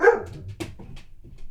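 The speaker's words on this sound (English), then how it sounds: "Oh, there's a dog barking in my house." A dog barks once inside a home, loud and near, then a few softer, shorter yaps and muffled thumps follow in a brief burst.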